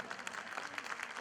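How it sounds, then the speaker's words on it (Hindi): Audience clapping at a Vidyapati festival concert of Maithili music in Noida, a steady, dense patter of many hands filling the whole short stretch at moderate distance. "चाहा एक बार ताली सब गोटे बजा दीजिए"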